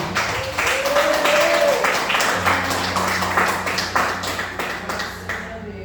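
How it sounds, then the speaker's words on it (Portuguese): Church congregation applauding during a sermon, a sustained wash of many hands clapping at moderate loudness, with a faint voice and a low tone briefly audible beneath it before the clapping tapers off at the end. "Uma salva de palmas para Jesus."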